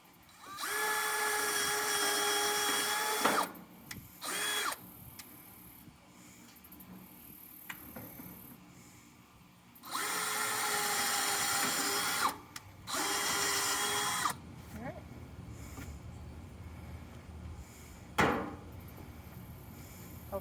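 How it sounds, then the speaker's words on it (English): A power drill boring bolt holes through a server rack shelf in several loud bursts of whirring, with pauses and handling clatter in between. "and now we're just going to drill."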